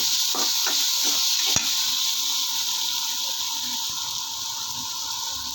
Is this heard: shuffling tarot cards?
no